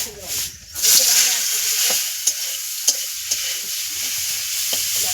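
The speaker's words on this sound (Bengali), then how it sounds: "রসুন শুকনো লঙ্কা দিয়ে দিয়েছি কড়াতে আর ওইগুলো ভাজা হয়ে গেছে এবার শাকটা আমি দিয়ে দেবো" Leafy greens frying with garlic and dried chilli in a wok, a steady loud sizzle and hiss with a few sharp clinks of stirring, no voices.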